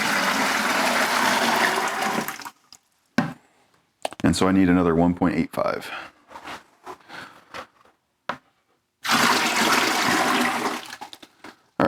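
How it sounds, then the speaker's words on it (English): Water gushes from a tap or hose into a plastic measuring container marked in liters for mixing clay slip, loud rushing bursts at the start and end with someone talking in between. "So I'm going to use this container, which has liters marked on it, to get the amount of water I need."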